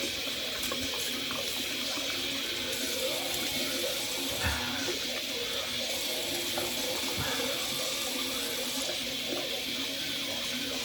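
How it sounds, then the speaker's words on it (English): A bathroom tap runs steadily into a sink while someone rinses their face with cold water after a straight razor shave, a constant close splashing hiss with a few faint knocks. "I'm gonna rinse off with cold water."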